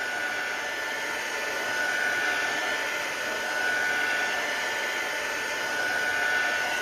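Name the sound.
heat tool drying a stamped card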